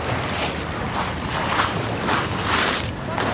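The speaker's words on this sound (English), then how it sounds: "Incoming boat." A boat passes on the water at Queenstown, New Zealand, heard as a steady rushing wash of water and engine blended with strong wind buffeting the microphone, continuous and fairly loud.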